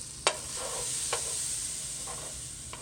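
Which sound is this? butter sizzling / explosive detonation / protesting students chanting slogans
butter sizzling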